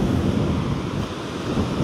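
Ocean surf at Pattaya washes in a continuous low roar, mixed with wind buffeting the microphone.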